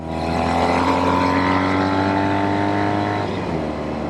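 A 1973 Norton 850 Commando Roadster vintage motorcycle engine revs loud and close, holding a steady high-revving drone before easing down slightly near the end, with no talking.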